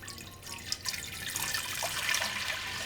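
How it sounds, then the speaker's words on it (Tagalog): Water pours steadily into a cooking pot being readied for steaming chicken and pork embutido, a continuous splashing flow that builds slightly in level over a few seconds, close and alone without talk. "Maglalagay lang ako ng tubig sa isang cooking pot."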